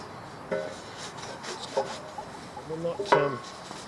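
Steel parts from a Suzuki DRZ400 motorcycle are rubbed down by hand before painting, giving intermittent scratchy scrubbing strokes at close range, with a faint voice in the background.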